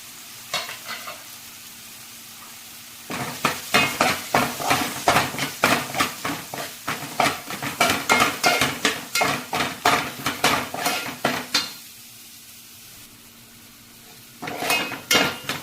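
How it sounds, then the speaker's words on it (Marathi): Dry spices roasting in oil in a pan over low gas, with a spoon scraping and clattering in steady rapid strokes close by, then pausing before resuming, with no talking. "आपले सुके मसाले मस्त भाजले, बघू शकतो तुम्ही, तेल बाजूला सुटलं याचं।"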